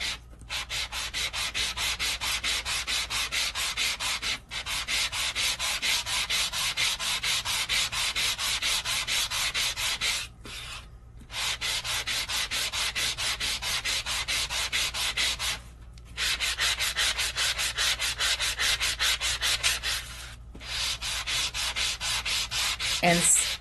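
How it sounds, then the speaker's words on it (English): Someone sands the back side of a Sizzix stencil by hand. Steady, close scratchy rubbing runs in long stretches, broken by a few short pauses. "And just sand it until my heart's content."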